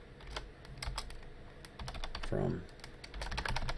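Rapid typing on a computer keyboard, with steady clicking key presses in an irregular rhythm and a brief spoken word mixed in.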